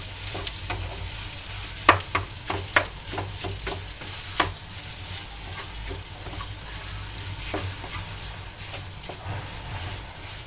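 Potato filling for aloo paratha is being mixed in a pan, giving a soft continuous sizzle with irregular clicks and taps from stirring, mostly in the first half.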